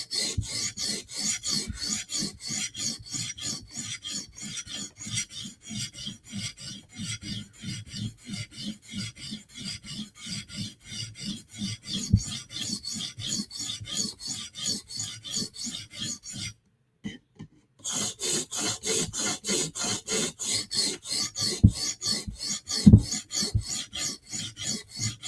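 A knife edge is drawn back and forth over a 150 grit sharpening stone in rapid, regular rasping strokes, close and fairly loud, with a brief pause about two thirds through before the rhythmic scraping resumes.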